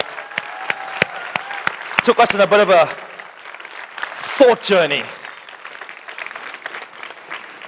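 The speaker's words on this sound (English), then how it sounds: "let's please give another round of applause for all our panelists here today" Scattered, sharp claps from the audience for the panelists at a trade show ring out at first, then thin out while someone speaks over them.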